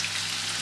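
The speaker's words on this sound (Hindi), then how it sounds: "और इन्हें हम यहाँ पे फ्राई कर लेते हैं।" Chicken seekh kababs fry in hot oil with a steady, dense crackling sizzle that holds an even level throughout, close by and with no voices.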